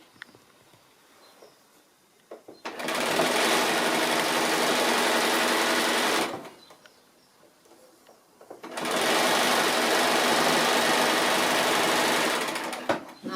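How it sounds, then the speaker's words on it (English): Sewing machine stitching quilt block rows together, two sustained runs of steady fast whirring, each about three and a half seconds, separated by a quiet pause with faint handling of fabric. "So I'm just sewing the rows together now, just making sure those seams nestle as we come through"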